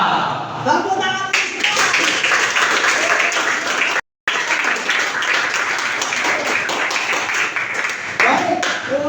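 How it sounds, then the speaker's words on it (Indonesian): Audience at a vocational high school (SMK) event clapping hands together on cue, a loud dense burst of applause with a brief dropout midway, voices mixed in near the start and end. "Tepuk tangan."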